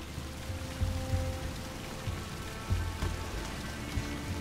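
Water fills up in the video game Unravel, a steady soft rushing and pattering wash with a few faint low thumps scattered throughout.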